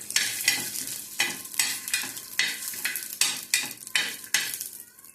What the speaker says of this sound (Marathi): थोडं तेलावर शेंगदाणे भाजून घ्यायचे आपल्याला चांगलं खमंग